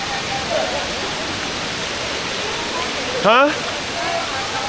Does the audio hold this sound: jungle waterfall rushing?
yes